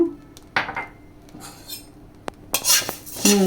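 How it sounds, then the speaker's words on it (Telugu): Coriander seeds roasting in a pan, with sharp metallic scrapes and clinks of a spoon stirring them, brief crackling bursts and pops, close and intermittent, no talking. "ఇప్పుడు ధనియాలు కూడా వేగుతున్నాయి చిటాపటా అంటున్నాయి"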